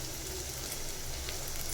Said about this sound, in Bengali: পাপড়াগুলো ভেজে নিতেছি।